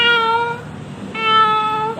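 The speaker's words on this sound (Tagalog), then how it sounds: "Oh, narinig ka na pusa." A house cat gives two drawn-out, tonal meows separated by a brief pause, close and fairly loud with no talking.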